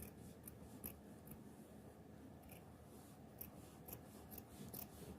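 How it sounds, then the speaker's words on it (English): Scissors snip through felt up close in quiet, repeated short cuts, each a soft scraping rasp spaced irregularly over a faint background. "So I'm going to cut it bigger."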